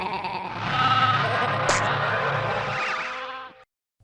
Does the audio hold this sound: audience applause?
no